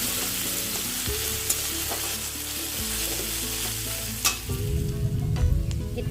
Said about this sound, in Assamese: এইখিনি ভালদৰে আদা নহৰুৰ কেঁচা গন্ধটো নোযোৱালৈকে ভালদৰে ভাজি থাকিম।